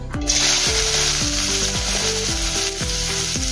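Finely chopped onion sizzles loudly in half a spoon of hot oil in a kadhai, a steady close crackle that runs throughout over a repeating stepped tonal melody.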